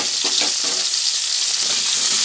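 Pieces of pointed gourd (potol), seasoned with turmeric and salt, fry in hot oil, giving a steady, close, continuous sizzle throughout with no talking.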